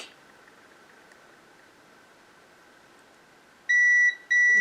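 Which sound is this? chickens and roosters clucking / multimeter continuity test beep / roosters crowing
multimeter continuity test beep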